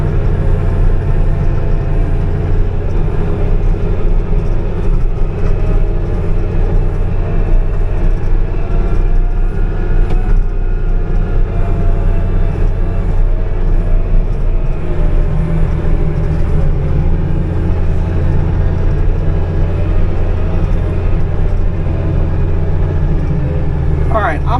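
A Komatsu WA180 wheel loader with 8,100 hours idles and works nearby, a loud, steady low diesel drone and hum that holds level throughout, with no clear talk.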